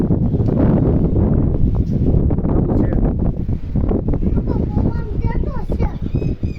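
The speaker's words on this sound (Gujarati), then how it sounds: "આજે પવન બહુ છે એટલે પવનનો અવાજ આવતો હશે તમને." Heavy wind buffets the microphone in a loud, constant low rumble, with a voice speaking partly buried beneath it toward the end.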